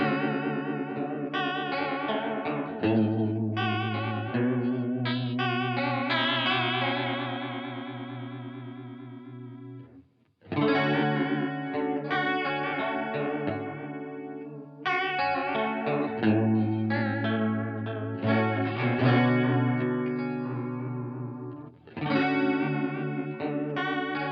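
A triangle played through a guitar pedalboard with modulation set to a random rate, giving sustained, shimmering tones that waver and warble as each strike rings out, with several separate hits and short pauses between them.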